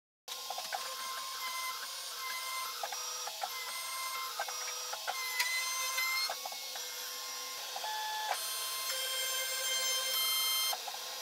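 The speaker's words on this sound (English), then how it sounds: "I switched to a 6mm cutter and I remove material slowly until the bridge fits perfectly." CNC router cutting a guitar body with a 6mm cutter, a steady high whine with shifting tones and small stepwise changes as the tool moves, continuous and close throughout.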